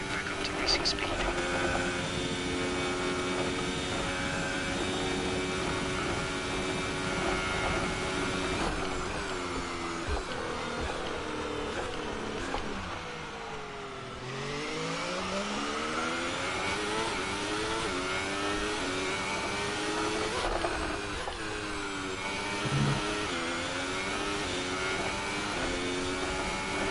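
An F1 car engine in the F1 2018 video game, a loud, steady high-pitched whine that winds up as the car accelerates back to racing speed, dips briefly around the midpoint, then climbs again.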